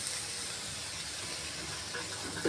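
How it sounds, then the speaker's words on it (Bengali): Onion and spice masala for pumpkin greens being stir-fried in a pan, a steady close hiss of frying that runs unbroken, with a faint clink near the end. "এখন মশলাটাকে খুব ভালো করে একটু কষিয়ে নেব।"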